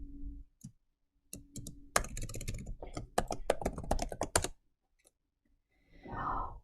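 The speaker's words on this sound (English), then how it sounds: "let me type a little something in the chat." Quick bursts of computer keyboard typing clatter close by in a quiet room, pausing briefly between runs of keystrokes, then a soft breathy sigh at the end.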